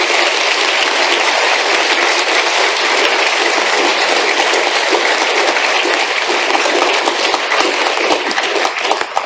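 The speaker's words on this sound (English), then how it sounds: "Could we get a round of applause for the attorneys here today?" An audience at the Cheboygan Opera House applauds the attorneys after a court session with dense, continuous clapping from many hands. It stays loud and sustained throughout, with no talk over it.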